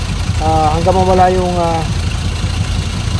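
An engine that has just been started, smoky and due for an oil change, idles with a steady low rumble while someone talks over it.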